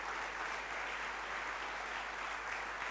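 Steady applause from a crowd at a political rally, an even wash of clapping hands at moderate distance, sustained without pause.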